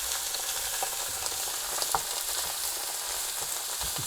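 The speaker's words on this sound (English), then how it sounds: "I'm going to add the leeks, and I'm going to just keep stirring" Leeks and carrots sauté with onions in a casserole pan, giving a steady, close sizzle with soft scraping and stirring clicks over the top.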